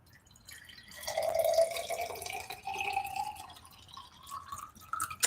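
Water is poured into a glass at close range, a steady splashing fill with a rising gurgling tone that lasts several seconds and trails off with a few small drips, no talking over it.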